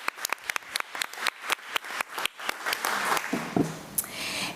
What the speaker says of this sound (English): Let's give Ms. Bodison another round of applause.